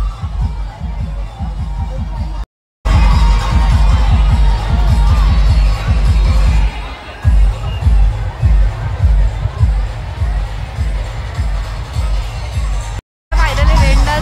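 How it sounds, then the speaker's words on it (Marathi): A dense crowd packs a resort rain dance in Virar, where loud cheering, shouting and babble of many voices fill the air with pulsing rhythmic thumps underneath, broken by two brief dropouts. "फायनली रेन डान्स मध्ये गर्दी बघा, फुल अँड क्राऊड"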